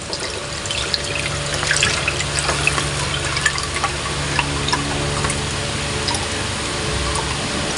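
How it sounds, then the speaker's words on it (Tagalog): Marinated pork is drained, with liquid trickling and dripping steadily along with small clicks and taps, close and fairly loud throughout. "Ngayon, i-drain po natin siya."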